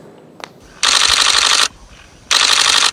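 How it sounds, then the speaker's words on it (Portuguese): Two rapid bursts of camera shutter clicking on a farm in Miranda, Brazil, photographing a jaguar, each lasting under a second, crisp and close, separated by a short quiet pause. "Disparos só para conseguir a melhor foto"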